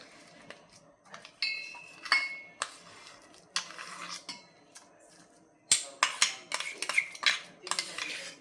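Metal utensils scrape and clink against a pot in irregular bursts as ground soaked lentils are transferred into it, close by, with pauses between the clatters.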